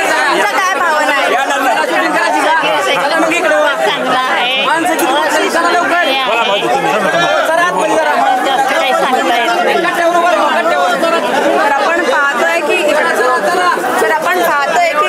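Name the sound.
large crowd of devotees chattering at Pandharpur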